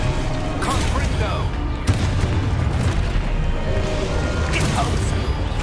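The Confringo explosive spell goes off in Hogwarts Legacy as a booming blast over a rumbling, crackling background, with a sharp burst near the middle and another flare toward the end.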